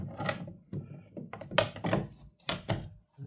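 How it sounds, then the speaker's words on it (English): Side door of a narrowboat being shut, giving a series of soft wooden thunks and knocks at close range, several hollow bumps spread unevenly over a few seconds. "Double glazed units, and obviously the doors open."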